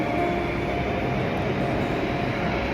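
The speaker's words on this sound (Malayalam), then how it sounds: "ഇതാണ് ഡൽഹി മെട്രോയിലെ ഒരു സ്റ്റേഷൻ. ഭൂമിക്കടിയിൽ കൂടെ ട്രെയിൻ പോകും." Deep, steady roar inside an underground Delhi Metro station, a train moving through the tunnel with constant rumbling noise and no voices.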